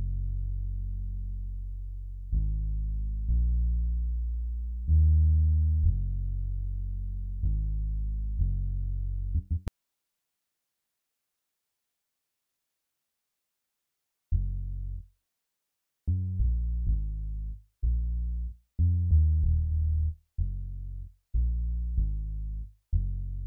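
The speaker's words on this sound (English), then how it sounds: "the bass on its own sounds like this" A solo bass synth line from an afrobeat production plays deep, sustained low notes in a steady rhythmic pattern, breaking off into silence midway before returning with shorter, punchier repeated notes.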